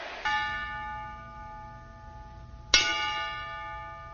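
A single church-style bell tolls twice in tribute to wrestler Eddie Guerrero, each strike loud and ringing with a long, slowly fading sustain.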